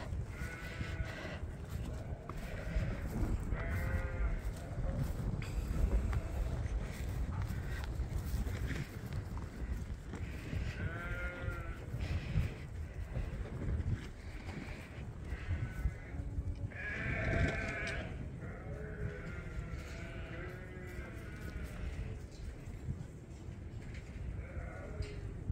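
Sheep on a farm bleat repeatedly, loud and close, as they run around farm wagons, their overlapping calls continuing over a steady rumble of wind or movement.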